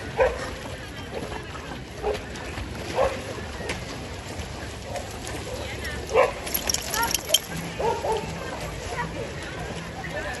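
Dogs bark and yip intermittently at an outdoor dog swimming event in Lexington, Kentucky, scattered short barks near and far over a busy crowd murmur with people talking throughout.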